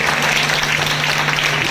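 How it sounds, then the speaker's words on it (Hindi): Applause from an audience at a network-marketing leadership training meeting: a dense, steady wash of clapping that fills the short moment without a break. "सभी के एक बार जोरदार ताली होना चाहिए।"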